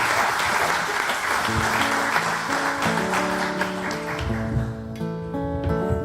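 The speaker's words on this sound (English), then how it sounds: "Give a round of applause for Barboursville." A crowd applauds at a live country-style radio music show, loud dense clapping that carries on while plucked guitar notes start ringing through it and linger as the clapping thins out.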